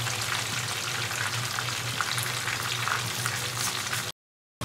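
Chicken pieces fry steadily in a pan for a homemade chicken burger, a dense continuous sizzle with bubbling oil that holds at an even level close by, then cuts off abruptly near the end.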